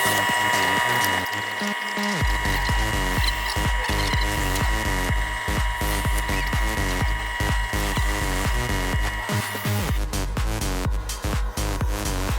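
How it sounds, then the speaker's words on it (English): Drill press boring holes through the corners of wood boards for a three-plank sign, a steady loud whir with repeated rhythmic grinding bursts as the bit cuts, running continuously and alone. "Next we drill holes in each of the corners of all the boards."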